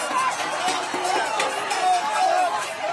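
An angry crowd of protesters shouts and yells at a Chicago alderwoman's office amid a migrant shelter dispute, a dense, loud, continuous roar of overlapping voices.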